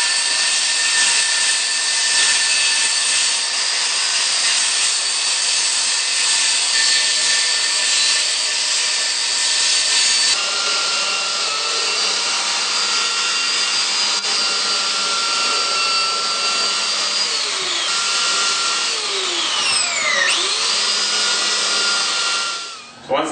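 A power saw cuts an Onyx panel along a taped line, giving a loud, continuous high-pitched whine that shifts in tone partway through as the blade works the stone, then stops abruptly at the end.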